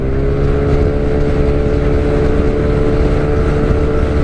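A Yamaha NMAX Turbo scooter's engine roars loud and close while riding and accelerating on a touring trip, a continuous dense drone with no talk over it.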